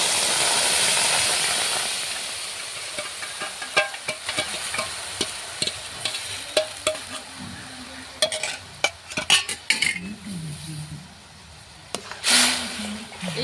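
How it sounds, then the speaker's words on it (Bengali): A spoon scrapes and stirs homemade tomato paste in a kadai over low heat, producing irregular clicks and scrapes over a soft sizzling hiss, with faint voices briefly in the background. "এটা আমি কড়ার মধ্যে দিয়ে একটু নাড়াচাড়া করব।"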